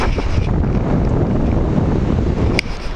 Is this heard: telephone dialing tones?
no